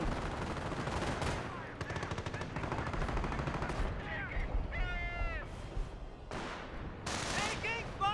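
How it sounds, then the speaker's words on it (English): An MG42 machine gun opens fire on a rifle squad in the Company of Heroes video game. Steady rattling bursts mix with other gunfire throughout a loud battle, while a voice talks over the fighting. "MG42 looks like not getting hits on that rifle squad"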